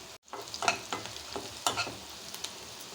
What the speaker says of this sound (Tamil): பூண்டு வாசனை பச்சை வாசனை போகிற வரைக்கும் வதக்கிக்கலாம்